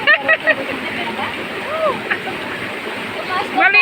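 Stream water flows steadily at an outdoor washing spot used for bathing, laundry and dishes, with a loud constant rush and some splashes, while people talk over it.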